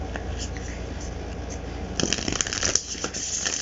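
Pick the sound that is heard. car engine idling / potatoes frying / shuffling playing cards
shuffling playing cards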